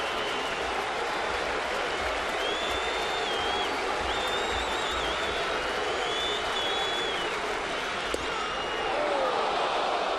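A baseball stadium crowd keeps up a broad, sustained roar of cheering and applause as it waits for a strike three, with a few whistles rising above the steady wash of noise.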